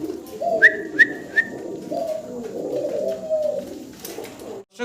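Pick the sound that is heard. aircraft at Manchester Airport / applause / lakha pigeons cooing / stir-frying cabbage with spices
lakha pigeons cooing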